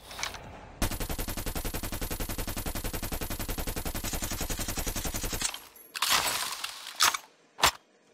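Suppressed Krig 6 rifle with the Frost Dragon skin fires in Call of Duty Mobile, a rapid, even automatic burst lasting several seconds, followed by a few separate sharper bangs and impacts.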